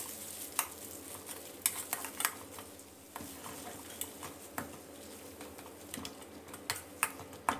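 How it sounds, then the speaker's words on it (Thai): Pounded shallots and garlic stir-fried over medium heat for Thai chili paste with minced pork, a quiet sizzle punctuated by sharp scraping taps of a spatula against the pan at irregular intervals. "นำพริกหอมกระเทียมที่เราตำไว้นะครับมาใส่ลงไปผัดให้แตกกลิ่นหอมเลยครับ"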